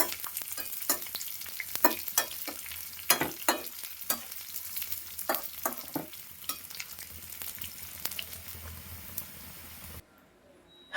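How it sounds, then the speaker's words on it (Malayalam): Chillies, onion, dried red chillies and curry leaves crackle and sizzle in hot oil for tempering, with a steady frying hiss broken by sharp popping bursts, close and loud, with no talking. "ഇവിടെ പൊട്ടിക്കും മുളക് ഉള്ളി വറ്റൽ മുളക് അറിയേപ്പില എല്ലാം ഇട്ട് കൊടുത്തു"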